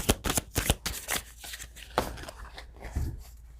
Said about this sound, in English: Having such trouble shuffling today.